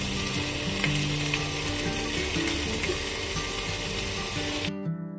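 Marinated chicken frying in a pan, a dense, continuous sizzle with faint clicking and scraping, alone with no voices, then cut off abruptly near the end.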